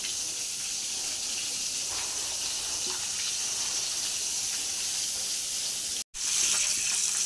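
Tap water runs steadily into a kitchen sink while ingredients are washed for a chicken dish, making a constant close hiss that is broken by one brief gap.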